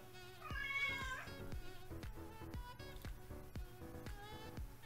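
A cat gives a short, clear meow early on, recorded faintly indoors among light tapping and clicking sounds.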